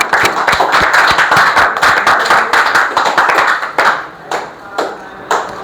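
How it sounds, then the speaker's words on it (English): Classroom audience giving a round of applause for Grade 10 students after their presentation, dense loud clapping that sustains for several seconds before tapering into a few scattered late claps. "Give them a big round of applause."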